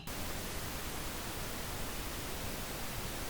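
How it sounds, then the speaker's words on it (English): Steady, even hiss of pink noise runs throughout, constant in level and broadband, with nothing else heard. "let that run until you have a long pink noise sample"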